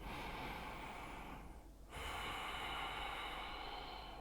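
Deep breathing in a yoga vinyasa flow, a long airy inhale-like hiss fading into a short pause, then another full breath, close and alone without talk.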